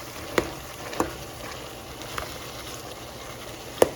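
Meat sizzles steadily in a hot pan for homemade spaghetti sauce, a close, even frying hiss broken by a few sharp pops and stirring knocks.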